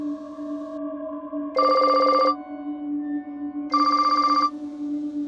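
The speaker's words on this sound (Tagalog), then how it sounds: "Tumutunog ang cellphone ko at may tumatawag." A cellphone rings with an incoming call, giving two loud electronic ringing bursts about two seconds apart over a steady tonal hum, with no voices.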